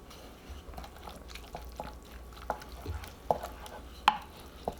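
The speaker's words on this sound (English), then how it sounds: "And then we'll stir all that together and add the pasta in." A spoon stirs basil paste into a baked feta sauce, a soft wet scraping and sloshing that runs throughout. Several sharp ticks of utensil on the dish break through, the loudest near the end, and no one speaks.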